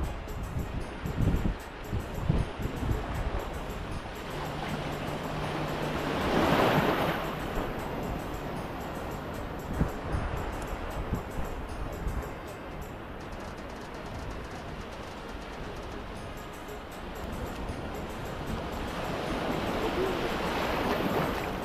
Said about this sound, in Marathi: समोर येणारा लाटा बघू शकता तुम्ही.